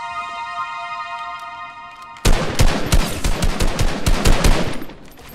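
Rapid bursts of common assault rifle fire in Fortnite, loud and close, crackling shots in quick succession after a quieter stretch of game music.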